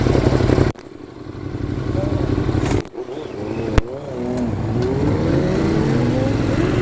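A Ducati Monster motorcycle rides at night, its engine droning loudly and close, with throttle blips, gear changes and rising revs as it accelerates.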